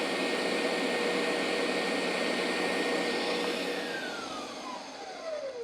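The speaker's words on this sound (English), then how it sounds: "bowl with a whisk attachment of my KitchenAid, egg whites, pinch of salt, tiny little bit of cream of tartar" A KitchenAid stand mixer with the whisk attachment beats egg whites in a bowl, a steady loud whirring hum that holds for several seconds and then winds down near the end, with no talk over it.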